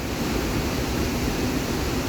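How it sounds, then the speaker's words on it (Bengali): Strong current of floodwater rushing through a swollen river in Italy after days of rain, a dense continuous roar with no pauses, loud and close, no voices. "পানির তীব্র স্রোত যেন ভেঙে চড়ে নিয়ে যাবে সবকিছু"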